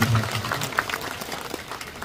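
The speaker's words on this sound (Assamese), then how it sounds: "আৰু এটা হাত চাপৰি বজাই ধন্যবাদ দিব লাগিব" Audience applause at a political rally addressed by Jonai MLA Bhubon Pegu, a brief burst of clapping from a gathered crowd, fairly loud and diffuse, fading over two seconds.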